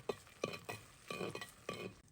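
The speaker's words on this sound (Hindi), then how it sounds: "ये बहुत ही जल्दी रोस्ट हो रहे हैं" Puffed fox nuts (makhana) roasting in desi ghee, stirred in a pan in a village kitchen: four or five scraping stirs at a steady rhythm over a faint sizzle, close and moderately loud, with no talking.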